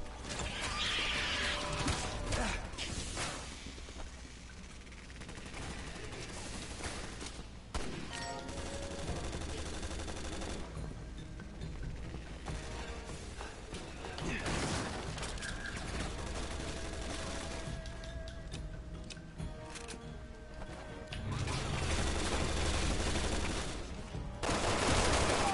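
Shotgun blasts and rapid gunfire in the video game Resident Evil 6, loud and continuous with dense bursts of shots and crashes running throughout.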